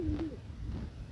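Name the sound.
pigeon cooing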